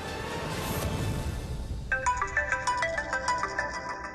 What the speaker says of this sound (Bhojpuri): विजय के फोन